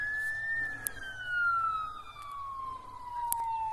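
A fire engine siren wails steadily at a distance on the Isle of Arran, its pitch gliding slowly downward, with a couple of faint clicks and low rumble underneath.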